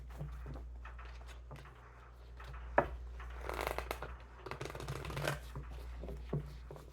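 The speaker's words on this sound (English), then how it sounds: "We'll do 2 more shuffles." Tarot cards are shuffled and riffled in soft papery bursts over a steady low hum, quiet and close, with a few sharper flutters.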